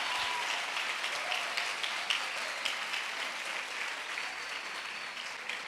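Congregation in a Brazilian evangelical church applauding, with dense, sustained clapping from many hands throughout and no pauses.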